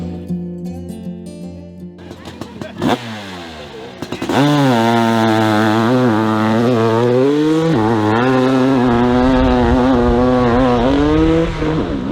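A hillclimb racing motorcycle at the Monson, MA hillclimb revs loudly and up close. After a few seconds of quieter mixed sound, a strong, buzzing engine tone rises and falls in repeated throttle blips, then holds high and steady.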